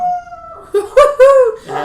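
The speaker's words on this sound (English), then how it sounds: "That's my dog." A dog howls in short rising and falling bursts close by, several wavering cries in under two seconds, with a little background noise and no speech over it.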